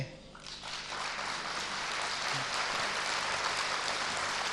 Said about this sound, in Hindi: अभी ताली बजाएंगे